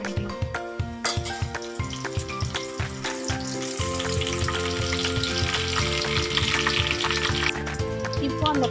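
Curry leaves frying in hot oil with fenugreek, cumin and fennel seeds while cooking a sundakkai puli kulambu, a steady close sizzle with bursts of crackle and stirring, no talking.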